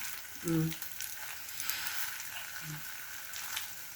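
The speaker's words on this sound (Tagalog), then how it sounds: "Pero ba't may bubbles? Eh, kumukulo." Steady hiss and crackle of hot oil bubbling while maling luncheon meat fries in a pan, continuous and moderately close, with a brief voice murmur early on.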